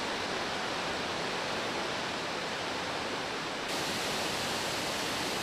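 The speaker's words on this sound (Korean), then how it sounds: "여기에다 10m 높이의 폭포가 앞을 가로막는다" Heavy roar of a large 10 m waterfall with a strong, surging river current, a dense, steady wash of water that stays loud and constant throughout.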